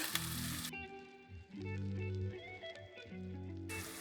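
Tomatoes and salt sizzle in a pan of hot oil for a fish curry, a steady crackling hiss heard up close and alone.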